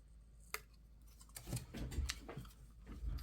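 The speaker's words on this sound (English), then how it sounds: "the cruddy cutting job of these less than ideal scissors" Cheap, dull scissors snipping through paper journal cards, several close crisp cuts in an uneven rhythm with small rustles between them, no voices.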